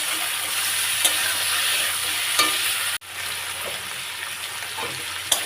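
Vegetables with chillies and jackfruit seeds sizzling and frying in a pan, with a spoon stirring and scraping at intervals over a steady hiss.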